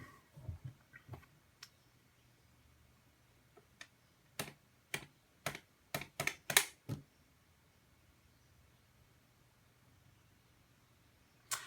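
Scattered clicks of a USB computer keyboard plugged into an Xbox 360, pressed in a quiet room, a few sparse taps then a quick cluster of sharper keystrokes before falling silent.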